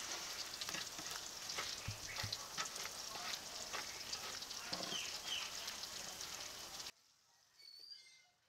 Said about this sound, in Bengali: একইভাবে এই চাল কুমড়োগুলোকেও আমি ভেজে নেব।